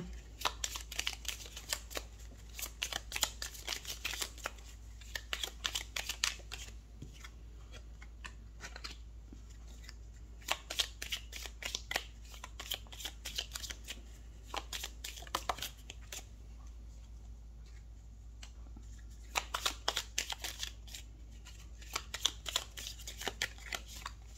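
Tarot cards being shuffled by hand, close and fairly quiet, with repeated bursts of crisp riffling and flicking in an uneven rhythm over a steady low hum.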